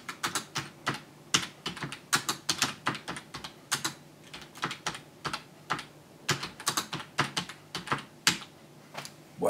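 Fingers type steadily on a computer keyboard, a close, continuous run of crisp key clicks in uneven bursts with brief pauses, heard alone without any voices.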